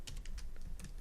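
Fast, close-up clatter of keys on a computer keyboard during coding work, a quick run of crisp clicks in uneven rhythm with no voice over it.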